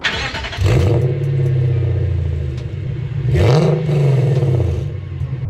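A Lexus RC F with PP headers and an ARC racing exhaust revs loudly twice, each burst rising sharply then settling back to a rumbling idle, close by.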